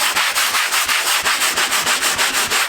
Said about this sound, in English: you can take your sanding sponge